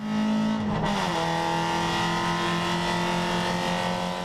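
Race car at a Symmons Plains championship round, its engine a loud sustained roar with a sharp bump and brief squeal near the start as it slides, then settling into a steady drone.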